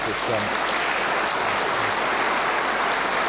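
An audience applauding for Larry Perkins, a former Formula 1 driver, at a motorsport legends event: a steady, dense wash of clapping throughout, with faint low voices underneath.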